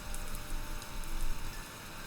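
Recorded rain plays as a steady, faint hiss of patter on a surface, continuous and even, with no voices.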